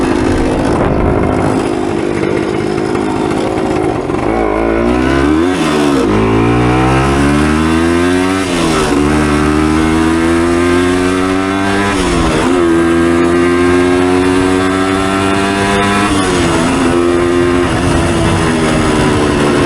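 A 1976 Kawasaki KE100 motorcycle engine revs up hard from a standstill, pitch climbing through several gear shifts without breaking up, loud and close throughout with no talking.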